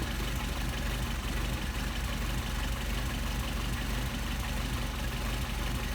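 Mercedes 190SL engine with Solex carburetors idling steadily at about 600 rpm, a continuous close rumble with a fast regular pulse that stays even throughout, no voices over it.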